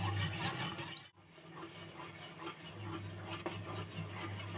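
A jaggery and milk mixture being stirred in a pot over a low flame, soft scraping and rubbing of a spoon against the vessel, faint and steady with a brief pause near the start.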